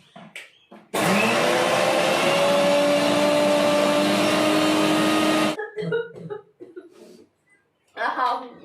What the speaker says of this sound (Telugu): సో ఇప్పుడు దీన్ని చక్కగా గ్రైండ్ పట్టేద్దాం.